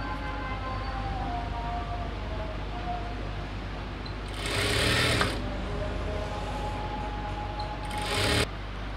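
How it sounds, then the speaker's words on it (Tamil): A sewing machine stitches folded cloth for a chudidhar top in a steady, close mechanical whir. Two brief louder bursts of faster stitching stand out, and no one speaks. "ஸோ அப்படியே வச்சு நான் ஃபுல்லாக ஸ்டிச் பண்ணிடுறேன்"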